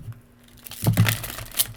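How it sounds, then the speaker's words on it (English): Stiff new tarot cards being shuffled, a soft crinkling and riffling burst of papery clicks and rustles up close, brief and uneven, following a quieter lead-in. "It's a new deck, so it's being a little bit challenging to shuffle"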